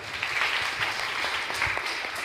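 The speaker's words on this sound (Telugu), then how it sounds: "గట్టిగా చప్పట్లు కొడదాం." A church congregation at an Easter worship service claps together in steady, dense applause that is moderately loud, with no voices over it.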